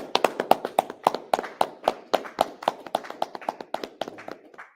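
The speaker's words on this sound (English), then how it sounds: "let's give the Most High a round of applause." Steady clapping, a few hands striking in a quick, fairly even rhythm, close by and distinct rather than a full crowd.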